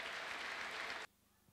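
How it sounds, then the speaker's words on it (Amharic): A church congregation applauding, a dense burst of many hands clapping that fills the space for about a second and then stops abruptly, with no talk over it. "እስቲ አጨብጭቡ ለጌታ"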